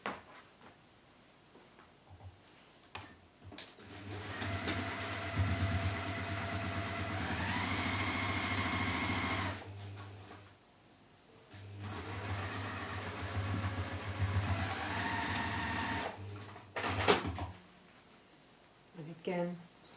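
A domestic sewing machine stitching beige fabric for a modern handled bag, two sustained runs of fast whirring separated by pauses, with someone talking quietly in the gaps.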